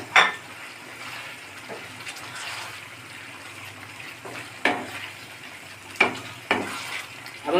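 Chicken cooks in oil in a pot for chicken dum biryani, a soft continuous sizzle broken by a few sharp clinks and scrapes of stirring, close and without talk.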